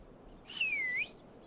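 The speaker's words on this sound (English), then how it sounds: "You get a little whistle action." In the survival game HumanitZ, a single clear whistle calls a horse. The note is a sustained, slightly wavering tone lasting about half a second, fairly faint, heard alone against quiet background ambience.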